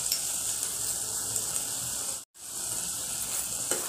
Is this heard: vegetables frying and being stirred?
yes